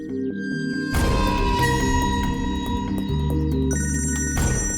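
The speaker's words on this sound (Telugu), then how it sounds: "హలో అన్నయ్య, మీ ఫోన్ రింగ్ అవుతుంది." A phone ringtone plays loud and close, a steady repeating electronic melody that runs for several seconds with no talk.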